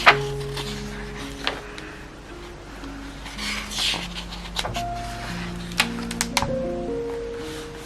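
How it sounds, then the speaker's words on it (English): Crisp pages of a 2025 Rosey Life paper planner are handled and turned, giving scattered crinkles and sharp rustles over soft background music. "You can just hear like the crispiness on the paper."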